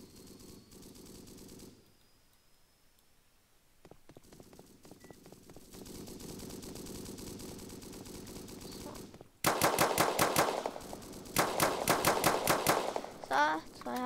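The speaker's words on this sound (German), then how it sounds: "Ja, und wir hören schon wieder das Rumgeschießer." Loud video game gunfire in a city map, sustained machine-gun bursts and rapid shots that grow denser and louder partway through, over a background of game ambience.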